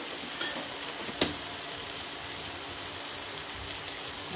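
Spices and salt sautéing in a pan for ritha fish curry with potatoes, a soft, steady sizzle with a couple of sharp clinks of a stirring utensil, faint and continuous throughout.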